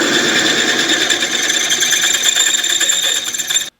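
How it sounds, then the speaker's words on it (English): A drill bit grinds steadily through hard steel, nearly as hard as the bit itself, on a car exhaust being fitted after catalytic converter removal: a continuous high, whining, rattling tone that runs unbroken for several seconds, then stops abruptly. "that noise it makes, that's when the steel you're drilling is just about as hard as the bit that you're drilling it with"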